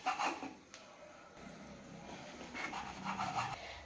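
A knife trims the crust edges off bread slices, heard as soft close rubbing, sawing strokes in short bursts with brief pauses between them, no voices.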